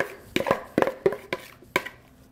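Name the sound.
vegetables dumped into a pan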